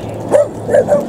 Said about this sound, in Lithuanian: Jėzų, šunų.